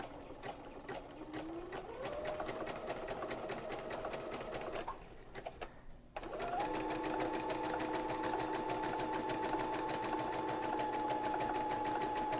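A sewing machine fitted with a pearls and sequins foot stitches fabric around a curve with a rapid, even mechanical whir, pausing briefly midway before resuming at a steady pace.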